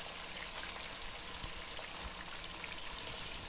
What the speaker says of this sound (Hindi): उसमें अब ये चिकन डाल के बहुत अच्छे से फ्राई कर लेंगे